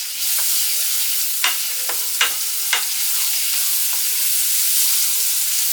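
Onions sautéing in a pan for a salmon dish give a steady, loud sizzle, with a few sharp scraping stir strokes around the middle of the clip and no talking.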